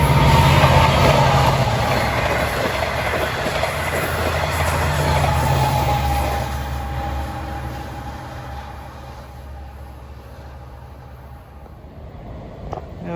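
A Long Island Rail Road westbound equipment train rolls past in rush hour at Forest Hills, a loud, close rumble with wheel clatter and a faint squeal that gradually fades as the cars move away.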